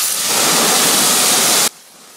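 A loud, steady hiss of water spraying hard against a car wheel, cutting off abruptly near the end to quieter background noise.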